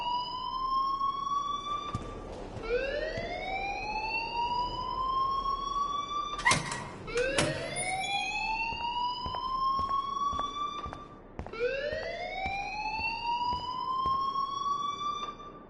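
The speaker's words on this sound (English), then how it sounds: "please turn off that alarm since that's your job" A wailing electronic alarm in the video game Life is Strange, rising sweeps repeating every few seconds with a few sharp clicks between, steady and prominent with no talk.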